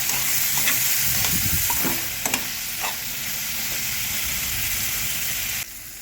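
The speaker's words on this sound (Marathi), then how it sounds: "पनीरचे तुकडे आपण थोडेसे हलके ब्राऊन रंग येईपर्यंत भाजून घेणार आहोत" Paneer pieces fry in a hot pan with a steady, close sizzle and occasional stirring scrapes, the crackling easing slightly toward the end.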